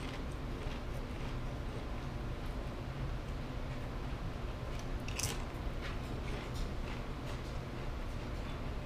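Sour Cream & Onion Pringles chips being eaten, steady close crunching and chewing throughout, loud and continuous with no talking.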